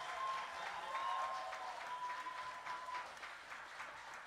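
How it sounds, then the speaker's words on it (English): A church congregation applauding, a steady sustained wash of clapping at moderate distance with a faint tone running through it. "Let's applaud the whole Curry clan."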